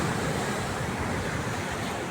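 Sea waves at Yarada beach wash in a continuous, fairly faint roar of surf mixed with wind rumble, with no voices present.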